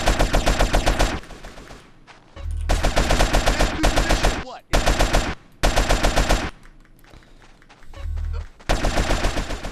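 Rapid automatic gunfire from a shootout in GTA San Andreas, loud and sustained in several long bursts broken by short pauses, with low thumps and scattered background game noise between volleys.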